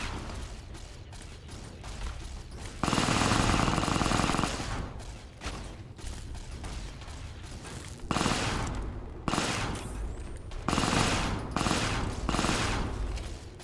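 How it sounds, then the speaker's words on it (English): An energy weapon fires in the modded Fallout New Vegas game, with loud, dense bursts of rapid shots that come in several runs of a second or two, separated by brief lulls, and no talking over them. "I'll try not to zap you, Mole."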